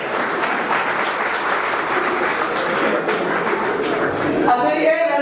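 Audience applause at an alumni meet at Khalsa College, a dense, steady wash of clapping filling the hall, with birdsong-like chirps and tonal sounds rising near the end.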